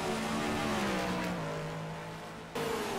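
In a racing video game, a Ferrari race car engine leaves the pits at Indianapolis with a high, whining tone that falls in pitch as it eases off, then jumps back up near the end.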